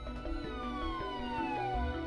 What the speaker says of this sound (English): At that moment, several police cars zoomed down the street, sirens wailing.